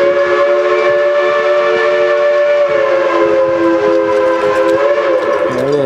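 A steam locomotive running as a triple-header crosses a road, its loud sustained whistle with layered steady tones dominating the scene up close, a rumbling undertone beneath.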